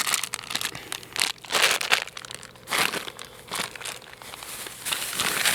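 A food bag crinkles and crackles as it is emptied at a campsite cookout, loud close bursts of plastic rustling in several clusters with short pauses between.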